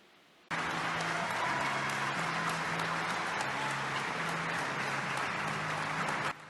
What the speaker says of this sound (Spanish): En medio de un emotivo momento, con aplausos de sus compañeros del Hospital San Rafael en Alajuela, Magali salió del salón de cuidados intensiv